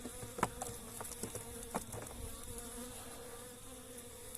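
Honeybees buzz around an open hive box on a homestead in early spring, a quiet, close hum of many wings with occasional louder passes as single bees fly near, no talking.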